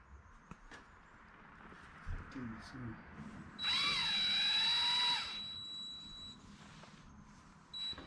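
A power drill whines in one sustained burst of under two seconds while boring into a wooden bed frame in a camper van build, with quiet knocks and handling noise before and after.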